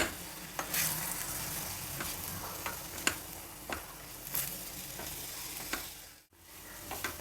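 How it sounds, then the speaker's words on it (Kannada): Fenugreek leaves fry in tempering oil over a low flame for a raw-mango rice dish, with a steady soft sizzle broken by regular scraping taps of a spatula against the pan. "ಸಣ್ಣ ಫ್ಲೇಮ್ ಇಟ್ಕೊಂಡು ನಿಧಾನಕ್ಕೆ ಹುರಿಬೇಕು."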